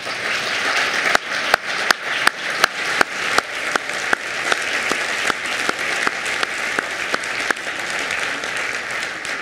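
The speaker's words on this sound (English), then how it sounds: "So let's give them a round of applause." Sustained audience applause at an arts program event, a dense wash of many hands clapping steadily for the full stretch, with sharper individual claps standing out near the front.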